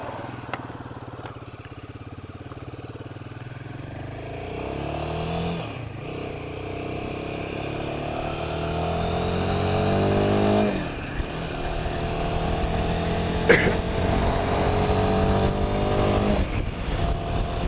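A Royal Enfield Himalayan 450 motorcycle engine revving repeatedly through the gears in chaotic traffic, rising and falling in pitch with each shift, heard close and steady with occasional mechanical clatter.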